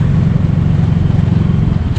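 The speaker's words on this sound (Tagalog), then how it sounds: "Malakas yung makina niya guys." A 2024 Suzuki Smash 115 FI motorcycle engine pulls hard in fourth gear, giving a loud, steady drone close to the microphone that holds for a couple of seconds.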